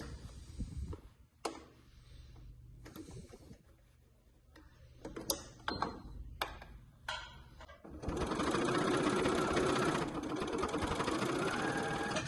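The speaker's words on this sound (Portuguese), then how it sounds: "a gente vai na máquina fazer uma costurinha de pesponto" A sewing machine topstitches the front pocket of a polka-dot clutch bag, first in short, ticking bursts with pauses, then in a steady, loud continuous run at the end.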